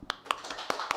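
A few distinct hand claps ring out in a Korean church service, about four separate sharp claps over a second, moderately near with a faint room background.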